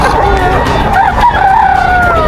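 A Boston White gamefowl rooster crows over a busy, noisy background at a market, with a long rising and falling call and faint voices and other sounds around it.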